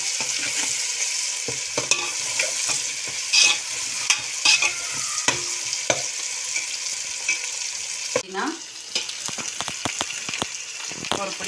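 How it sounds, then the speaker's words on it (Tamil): Tomatoes sauté in a hot pan and sizzle continuously, with frequent scraping stirs and clattering spoon knocks that grow busier near the end. "தக்காளி வதங்கிட்டு இருக்குது, அது நல்லா வதக்கணும்."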